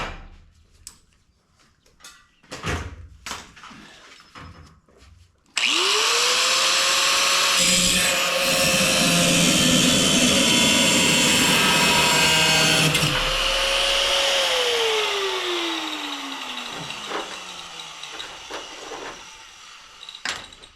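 A power tool cuts into an aftermarket restoration part on a Ford Torino hot rod, starting abruptly with a loud whine that rises, holds, then winds down, framed by scattered clicks and knocks.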